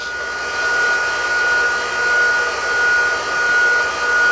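A surface grinder grinding a steel V-block gives a steady, loud broadband whine with a sustained high tone and gentle swells in level as the wheel passes back and forth, with no talking.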